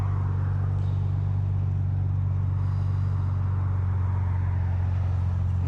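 A car engine idles with the hood shut, a steady low rumbling hum with even, continuous pulsing heard up close and alone.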